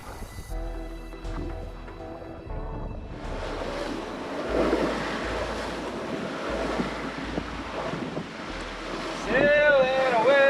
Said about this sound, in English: Sailing away into the waves, smashing into waves.